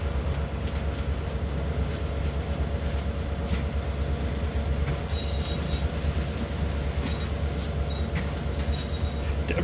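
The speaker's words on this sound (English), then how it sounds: "I had to use notch 3 to get the train moving there" Amtrak SW1000R switcher locomotive hauling a freight train in Train Sim World, with a steady loud diesel drone, rumbling wagons and a squeal of wheels, continuous with no talk.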